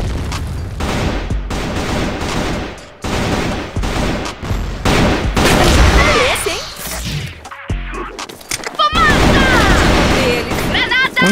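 Gunfire and a grenade explosion from a first-person shooter video game, with loud, dense bursts of shots and booms throughout. Someone talks and exclaims over the action.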